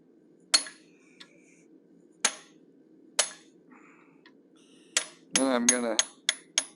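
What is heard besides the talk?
hammering a 3/16 inch fuller into hot steel while forging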